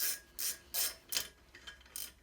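Bolts on a bench grinder swivel arm being tightened with a ratchet: five or six short, sharp clicking bursts in an uneven rhythm, close and fairly quiet, with no talking.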